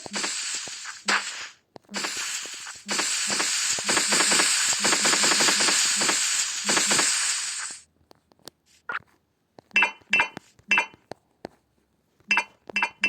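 Ore blocks being mined in a Minecraft-style block-building game: a long run of rapid, glassy clinking hits, followed by several short separate bursts of clinks between silences.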